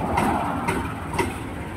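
Engine idling just after a repair of an error 12 fault, a low steady rumble with faint periodic knocks, close and alone.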